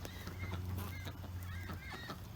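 Ducks quacking in a backyard garden pen shared with chickens, a steady run of nasal honking calls close by over a low constant hum, with no talking.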